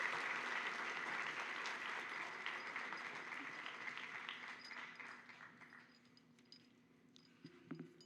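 An audience at a pharmacy technology pinning ceremony applauds its student speakers, a dense round of clapping that fades gradually toward the end, leaving a few scattered claps.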